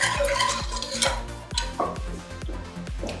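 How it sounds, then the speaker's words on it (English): A spiced crème brûlée mixture with cinnamon and clove being whisked in a bowl, giving rapid rhythmic metallic taps and clinks close up, about two to three strokes a second, with no voices. "And then I'm gonna whisk it real quick."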